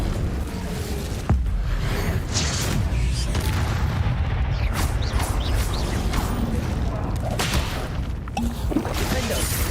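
Spell-fire casting in the Hogwarts Legacy video game, a loud whoosh-and-boom burst about a second in, followed by continuous crackling blasts and impacts of combat running throughout.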